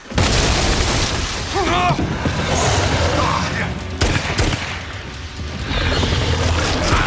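Loud booming blasts and gunfire bursts from a video game battle, dense and continuous, with shouted voices and sharp impacts throughout.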